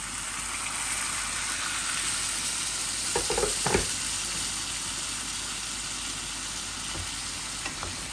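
Dried fish with sweet potato and vegetables frying in a pan, giving a continuous close sizzle, with a brief clatter of stirring midway and a couple of small knocks near the end.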